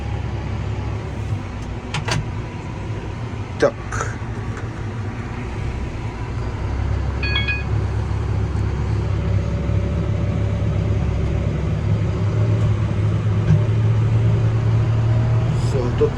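A tractor pulling a seed drill for direct-sown corn backs up and starts moving, a steady low engine rumble building louder partway through, with a few clunks and mechanical clicks and a whine in the field.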